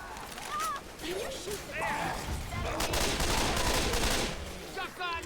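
Game gunfire in a zombie survival shooter, rapid bursts of shots and clattering impacts mixed with other game effects, while a player talks over the action.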